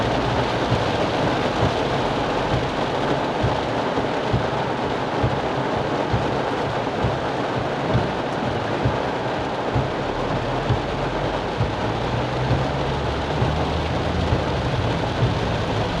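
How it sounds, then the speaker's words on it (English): Heavy rain pours down steadily with the sun out, a dense, loud, continuous hiss and patter that fills the whole stretch, with occasional low rumbles beneath it and no speech. "it's also pouring down rain with the sun out"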